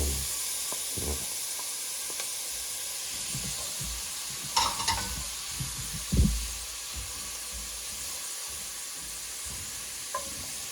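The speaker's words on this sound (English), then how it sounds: "And finally, we're going to do the onions" Onions frying in a pot over medium heat for Cajun red beans: a steady, soft sizzle runs throughout, with a few louder stirring clatters near the middle.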